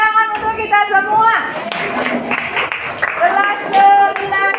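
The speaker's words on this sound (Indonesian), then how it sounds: "Tepuk tangan untuk kita semua." Students in a ninth-grade class clapping together, a brisk scattered patter of hands close by, mixed with a teacher's voice and overlapping chatter and cheering from the room.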